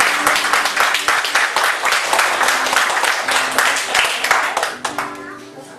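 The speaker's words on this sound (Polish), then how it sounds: "Dziki aplauz." A live concert crowd claps loudly in a fast, even rhythm, with children's voices mixed in, and the clapping fades toward the end.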